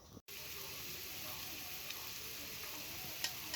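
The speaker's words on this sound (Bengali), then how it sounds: "ঝোলটা ফুটে উঠেছে" Bengali drumstick curry sauce bubbles in a pan, a steady, soft, hissing simmer with faint pops, briefly cut off near the start and then continuing evenly.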